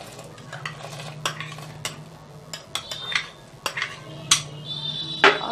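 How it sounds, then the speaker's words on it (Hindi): Soaked sago pearls being stirred in boiling milk in a pot for sabudana kheer, with a steady low simmer and repeated spoon scrapes and clinks against the pan, close and clear. "साबूदाने को हमें कंटिन्यू चलाना है, नहीं तो ये तले में लग सकता है।"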